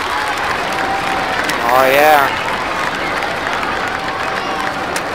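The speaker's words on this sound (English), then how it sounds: "guests clap for you when you win" Crowd of theme park guests in RollerCoaster Tycoon clapping and cheering after a win, a steady wash of applause while a man exclaims over it, swelling briefly mid-clip.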